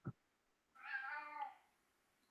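A house cat gives a single drawn-out meow, fairly close but soft, framed by brief knocks at the start and end in an otherwise quiet room.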